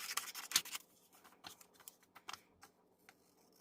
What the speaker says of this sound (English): I'm going to cut these out.